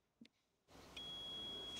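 A Mammotion YUKA robotic lawn mower gives a short beep as it powers on, then a steady electronic tone sits over a low hum that rises and keeps running.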